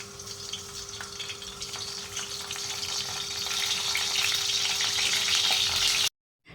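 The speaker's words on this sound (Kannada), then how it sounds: "ಸ್ವಲ್ಪ ಎಣ್ಣೆಯಲ್ಲಿ ಈ ಬದನೆಕಾಯನ್ನು ಫ್ರೈ ಮಾಡ್ಕೋಬೇಕು" Brinjal frying in a little groundnut oil over a low flame, a steady close sizzle with faint crackles and a thin constant hum beneath, ending in abrupt silence.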